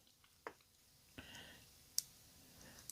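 Small plastic clicks come as the feet of a Transformers figure (the Masterpiece Blaster and Ramhorn recording set) are folded up, a few sharp, quiet snaps spaced over a hushed background.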